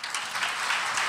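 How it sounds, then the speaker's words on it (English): Applause from an audience at a talk on spirituality and culture, a brief burst of dense, even clapping. "It's so nice if somebody applauds."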